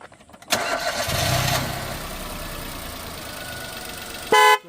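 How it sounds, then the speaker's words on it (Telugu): A Datsun Go Plus car engine cranks and catches, revving briefly before settling into a steady idle, followed by a short horn beep at the end. "ఇంజిన్ స్టార్ట్ చేసి చూపిస్తానండి సౌండ్ ఎలా ఉంది"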